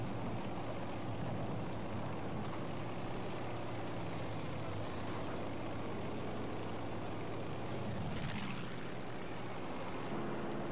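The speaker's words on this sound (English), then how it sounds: "I'm in the plane." A propeller plane's engine drones steadily and continuously in the Battlefield 5 video game, a loud, even hum with a brief swell near the end.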